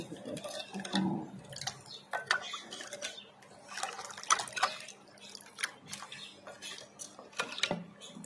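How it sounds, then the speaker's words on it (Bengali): Water trickles and splashes into a roasted mango sharbat seasoned with black salt, a close, intermittent pour broken by light clinks of a utensil against a glass or jug, with no talking. "আন্দাজে একটু দিই, আরেকটু জল দেবো।"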